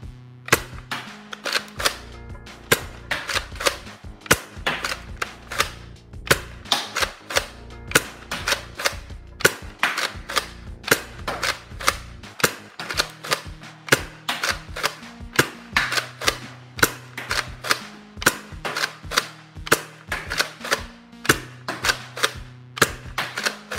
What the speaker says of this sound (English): fire the Stage 1 Retaliator. And we have the Raytheon darts already in.